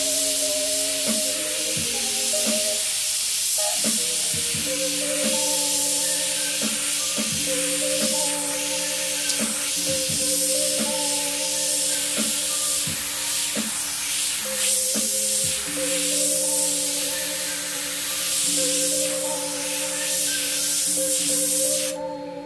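An airbrush sprays paint for graffiti art on hats and T-shirts, a steady loud hiss that runs almost unbroken, with a humming compressor tone beneath and brief pauses and shifts in pressure.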